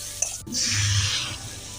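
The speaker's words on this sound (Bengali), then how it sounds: "এখন একটু উষ্ণ গরম জল দিয়ে দেব" Warm water poured into a pan of vegetable curry with tomato and lentil dumplings, a brief close splash that turns into a steady sizzling hiss over about a second.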